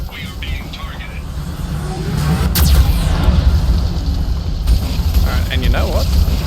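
Geth cannon attack in the sci-fi shooter Mass Effect 2, heavy booming blasts and mechanical rumble that swell partway through and persist, with voices talking over the combat noise.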